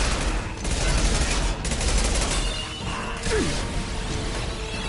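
Dense, continuous video game gunfire from Mass Effect 2 in a shootout near a Collector vessel, with bursts of shots and whooshing effects layered at steady loudness for several seconds.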